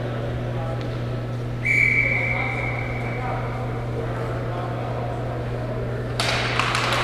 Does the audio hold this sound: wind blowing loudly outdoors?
no